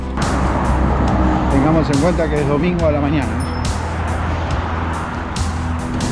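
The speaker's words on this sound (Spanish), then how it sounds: "tenemos alto tráfico." Heavy road traffic streams past while crossing the bridge over Kings Avenue in Canberra, a steady roar of cars with passing swells, heard under someone talking.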